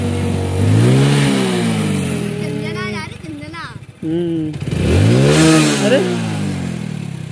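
A motorcycle started by pressing its start button fires up and revs in rising and falling surges close by, while people talk over and between the engine sweeps.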